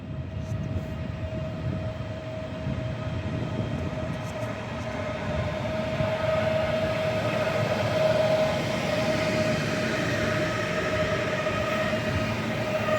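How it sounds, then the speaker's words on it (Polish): Stadler FLIRT electric train from Mława arriving at Legionowo station, a steady rolling rumble that builds gradually with a sustained whine, heard at a moderate distance. "wjeżdża flirt z Mławy do Warszawy"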